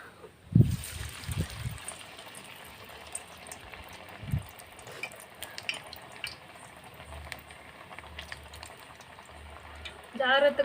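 Jowar flour vadas sizzle in hot oil, a faint, steady frying hiss with soft thuds and splashes as the batter goes in, and a brighter bubbling burst near the end.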